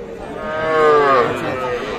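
A single drawn-out moo from a nearby calf at a cattle market, rising then fading over about two seconds, with faint background noise.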